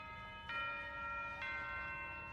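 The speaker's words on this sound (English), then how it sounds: "is this a morning bell or the afternoon bell?" School bell in the boxing anime Hajime no Ippo, a faint ringing bell tone with two distinct strikes, each sustaining and fading over a quiet background.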